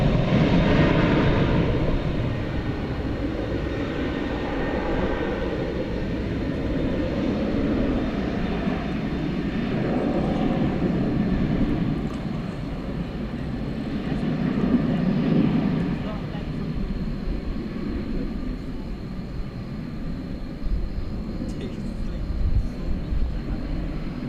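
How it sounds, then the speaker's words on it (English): American Airlines Boeing 737-800 taking off at DFW Airport at night, a long sustained jet engine roar that stays loud and gradually shifts over many seconds, with a voice talking over it. "American 1607 to El Paso, Texas, a 737-800 is now taking off"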